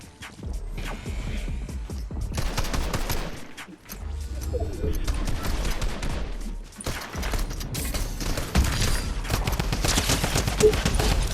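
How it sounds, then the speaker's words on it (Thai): Video game bots open fire in dense, rapid bursts of gunshots that run almost continuously, loud and close, with only short breaks between volleys. "บอทแม่งก็ยิงกูจังเลย"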